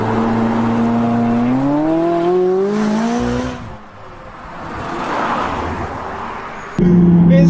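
McLaren 570GT supercar accelerating after a U-turn, engine note climbing through rising revs, easing off briefly, then a sharp loud return of engine drone at the end.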